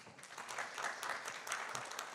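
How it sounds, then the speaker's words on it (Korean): Audience at a science journalists' conference session applauds after a talk, fairly faint clapping from a modest crowd with individual claps standing out as the sound swells and then eases slightly. "박수 한번 주세요."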